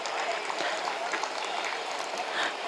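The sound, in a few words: audience applause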